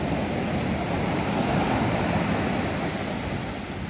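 Ocean waves breaking on a deserted beach, a continuous loud roar of surf with wind, steady and close with no voices.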